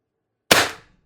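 A single sharp shot from a CO2-powered air gun with a 4x12g stock, a loud close crack that decays quickly into silence.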